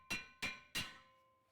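Three quick, evenly spaced hammer taps on the back of a Subaru Crosstrek front brake rotor, each with a bright ringing tone, the last one fading out slowly.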